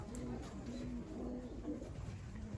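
A pigeon coos softly in a repeated low, rolling call, several times in a slow rhythm, with faint background noise.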